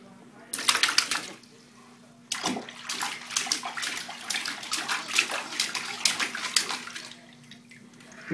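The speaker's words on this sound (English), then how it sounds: "Splash, buddy, splash." A young child splashing water in a bathtub, a brief burst of splashes, a pause, then a longer run of close, lively sloshing and slapping splashes.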